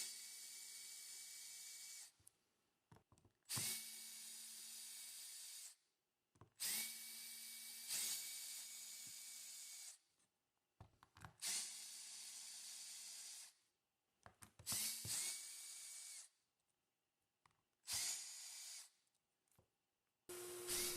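A power drill runs in repeated bursts of a few seconds each as it backs screws out of wooden templates, loud and close, with short silent gaps between the runs.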